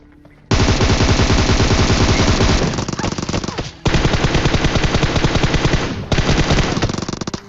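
Rapid, loud automatic fire from a suppressed UZI in a battle royale video game, sustained in three long continuous bursts with brief breaks between them.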